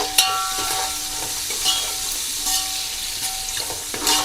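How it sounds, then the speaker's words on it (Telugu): Sliced onions with a little turmeric frying in a pan, giving a steady close sizzle with scattered scraping stir strokes and small crackles throughout. "ఆనియన్స్ చక్కగా వేగినాయండి."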